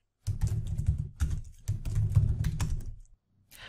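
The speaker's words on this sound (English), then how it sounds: "I can then type in my task name" Typing on a computer keyboard comes in three quick bursts of close, clicky keystrokes, with short gaps between them and no voice.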